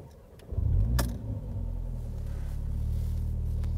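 Mercedes-AMG A45 compact hot hatch engine heard from inside the cabin, a sharp click followed by a low rumbling surge that settles into a steady, fairly loud drone, with no talking.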